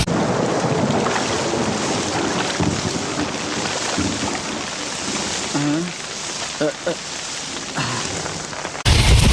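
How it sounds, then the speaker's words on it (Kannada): Heavy rain pours down in a steady, dense roar during a downpour around Bengaluru, with wind buffeting the microphone and a few faint voices underneath. "ಜೋರಾಗಿ ಮಳೆ ಬರ್ತಿದೆ"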